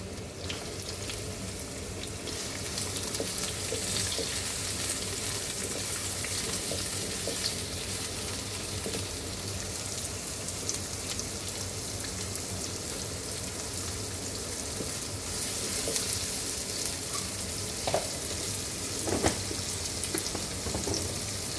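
Onions fry in white oil for a fish curry with a steady, dense sizzle that holds strong and close throughout, with occasional crackles and no voices.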